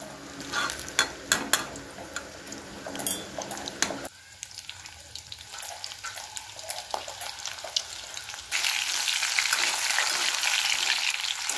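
Chicken pieces frying in hot oil, a continuous crackling sizzle with scattered pops and occasional stirring clatter, loud and close throughout, swelling brighter in the final seconds.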